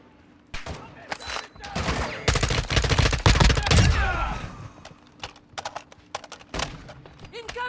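Gunfire in a shooter video game hitting the player, a burst of rapid shots and impacts building to a dense volley mid-clip, then scattered single cracks, loud and close with no talking.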